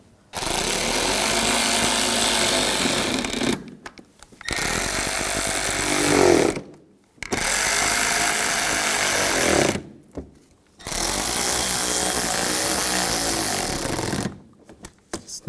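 Power tool driving headlight assembly screws on a 2011-2018 Volkswagen Jetta, four loud sustained buzzing runs of several seconds each, separated by short silent pauses, up close and with no talk.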